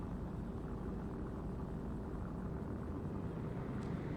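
Continuous low rumbling drone of a video game helicopter, steady and unbroken for a few seconds, with no voices.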